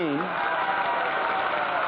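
Studio audience applause for a game show contestant, a steady dense wash of clapping filling the room, with a brief voice or tonal sound at the very start.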